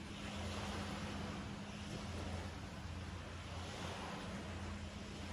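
Continuous roar of surf washing onto the shore, broad and steady, with wind buffeting the microphone throughout and no voices.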